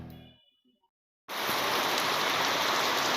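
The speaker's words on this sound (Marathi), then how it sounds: "अशक्य जोरात पाऊस येतोय" Heavy downpour on a motorbike ride through Tamhini Ghat near Pune, a loud, dense, steady roar of rain that bursts in abruptly after a quiet moment and fills the rest of the clip.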